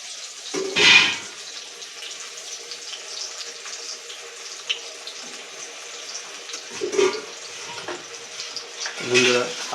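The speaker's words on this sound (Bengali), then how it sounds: "আলুগুলো ভেজে নেওয়া হচ্ছে" Potatoes seasoned with salt and turmeric fry in oil for a goat meat curry, a steady soft sizzle with a few louder splutters and stirring noises.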